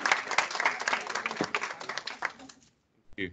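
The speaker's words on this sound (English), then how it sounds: "give him a round, a big Swedish applause and welcome to Stockholm" Audience applause at a breakfast seminar in Stockholm welcoming a speaker, a crowd clapping in a lively patter that thins out and stops, followed by a brief voice.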